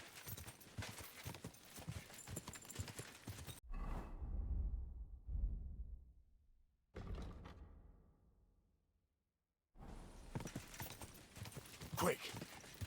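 Horse hooves clip-clopping in Kingdom Come Deliverance II, a steady gallop with whooshing movement and creaks, broken by abrupt cuts and a stretch of near silence before the hoofbeats resume.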